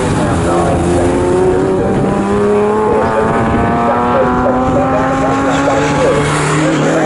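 Pre-2003 touring race cars roar past on the Snetterton circuit during a race, their engines loud and sustained with rising and falling pitch as several cars go by close together, under a commentator's voice.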